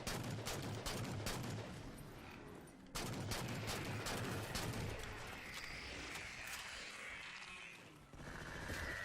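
Gunshots fire in Halo 4, with heavy bangs and dull impact thuds in short bursts, loud at the start, then quieter and sparser.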